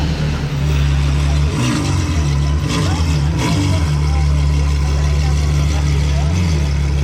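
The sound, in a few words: Ferrari car engine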